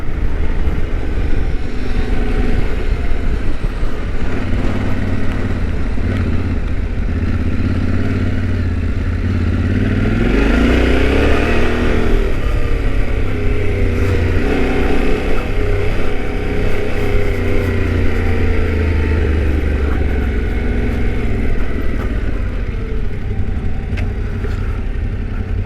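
A Yamaha Tenere 700 motorcycle engine drones steadily while riding a trail. The loud, continuous rumble swells and revs near the middle amid some rattling clatter.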